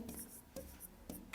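A pen scratches on paper during a Class 10 maths lesson on surface area, making three or four short, faint scraping strokes separated by brief pauses in a quiet room.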